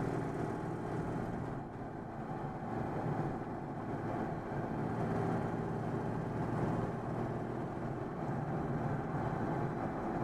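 A Citroën 2CV engine drones steadily and loudly for the whole stretch, running close by with only slight swells in pitch and no voices over it.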